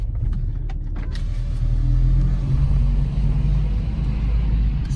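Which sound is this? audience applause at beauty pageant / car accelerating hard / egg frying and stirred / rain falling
car accelerating hard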